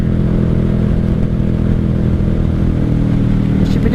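A 1995 Honda Shadow VLX 600 V-twin motorcycle engine runs at wide open throttle in third gear, a loud, steady, close drone with a dense rumble and no speech.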